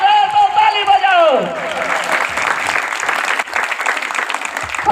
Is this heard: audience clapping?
yes